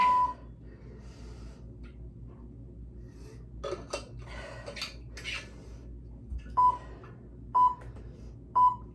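A new workout interval timer beeps three times near the end, sharp evenly spaced tones about a second apart over a low steady room hum, after some clattering and handling noises.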